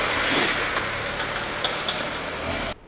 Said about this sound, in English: The motor sounds good.